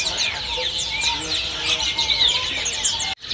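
Lovebirds chirp rapidly in a bird shop kiosk, a busy overlapping flurry of high, sharp tweets and calls that continues for several seconds before a brief cut.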